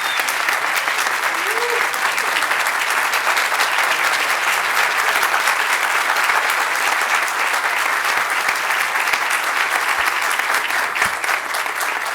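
An audience at a legal congress closing speech applauds steadily and loudly for about twelve seconds, with dense, sustained clapping throughout.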